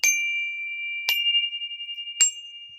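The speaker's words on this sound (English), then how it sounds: "So I'm going to bring the chimes in." Wind chimes struck three times at roughly one-second intervals, each bright metallic ring sustaining and overlapping the next, close and fairly loud in a quiet room.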